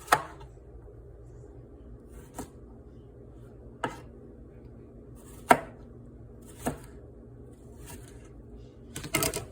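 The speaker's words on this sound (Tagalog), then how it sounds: "Ganito lang po kaliliit ang hiwain ko." A knife chops garden vegetables into small pieces on a cutting board. The cuts are sharp and close, coming as sparse, irregular single strokes separated by quiet pauses, with a faint cluster at the end.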